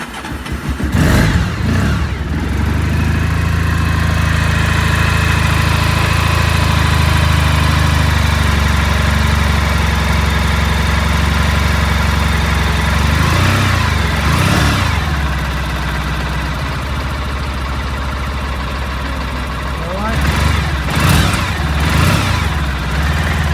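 A 1993 Honda ST 1100 Pan European motorcycle idles close by, its engine holding a loud, steady hum with a few brief revs or surges near the start, middle and end, with no one talking.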